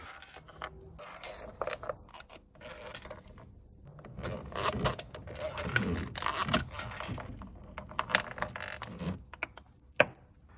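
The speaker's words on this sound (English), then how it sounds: "Time to get these spark plugs out now." Metallic clicks, clinks and ratcheting of tools at work while spark plugs are removed from a BMW M3 E92 engine, irregular close-up handling sounds with a sharp clank near the end.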